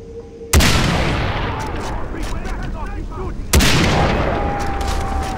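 Two heavy sniper rifle shots fired at a tank in Far Cry 3, each a loud sharp crack followed by a long rumbling echo, about three seconds apart, with someone talking between them.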